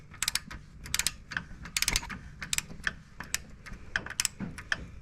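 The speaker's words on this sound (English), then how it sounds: "And now we're just going to loosen that fill cap up." A wrench ratchets in quick clicking bursts as the oil fill cap on a 2024 Polaris Sportsman 570 ATV is loosened, close-up and moderately quiet.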